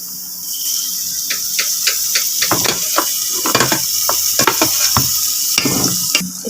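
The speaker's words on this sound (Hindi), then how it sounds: "प्याज़ों को अब हम तड़का लगा लेंगे," Onions sizzling in ghee in a pot for a potato chutney, a steady frying hiss with scattered pops and crackles close by, no talking.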